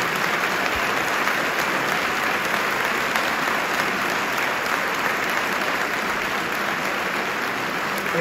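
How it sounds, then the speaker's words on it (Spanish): Audience at a musical theatre performance applauds its artists, a dense, steady wall of clapping from a large crowd, loud and sustained throughout. "Ese aplauso es para ellos."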